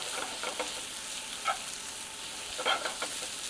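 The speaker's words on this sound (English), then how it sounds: "we're just going to put the onions and the mushrooms and just give that a saute down" Onions and mushrooms sauté in a pan with a soft, steady sizzle, broken by a few brighter spatters and scraping stirs near the middle and end of the stretch.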